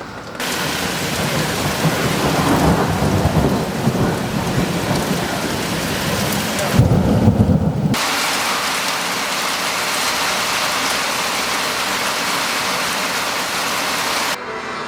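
Heavy rain pours steadily on a rural farmhouse during a thunderstorm, with loud low rumbles of thunder rolling through the first half and a brief louder burst near the middle before the downpour continues alone.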